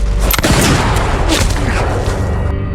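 Pistol shots ring out in a film duel, with a sharp loud report followed by a booming echo and rumble that fades away.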